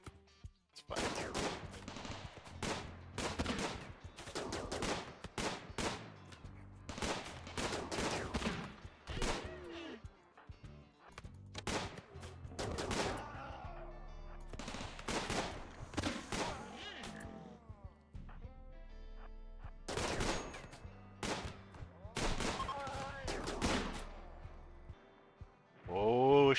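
Musket gunfire in the Rimworld video game comes as repeated sharp bursts and volleys through a battle, with crackling shots spread across the whole stretch and brief pauses between exchanges.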